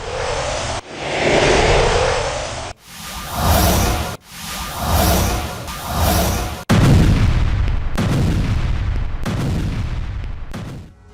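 Heavy gunfire and artillery along the Israel–Lebanon border during fighting between Israeli forces and Hezbollah: a run of loud, booming blasts and rolling broadband bursts, some close and sharp, others sustained, with no voices.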